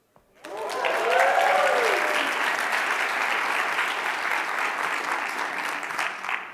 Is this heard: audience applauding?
yes